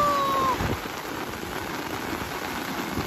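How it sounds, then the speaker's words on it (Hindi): Heavy rain pours down steadily as a dense, even hiss with no breaks, fairly loud and close, with a brief whistling tone at the start. "अभी गाइस देख लो कितनी बरसात हो रही है।"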